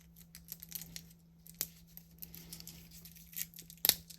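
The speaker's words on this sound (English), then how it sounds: "I will use tweezers inappropriately to break open this plastic wrapped bottle" Tweezers tear into the plastic wrap on a bottle of thinner: quiet, sharp snaps and crinkling plastic at scattered moments, with a few louder cracks near the end, close and alone.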